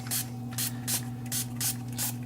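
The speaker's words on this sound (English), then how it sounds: "spritz down" A handheld spray bottle spritzes water over inked paper circles for a scallop flower craft, six short, evenly spaced hissing bursts close to the mic over a low steady hum.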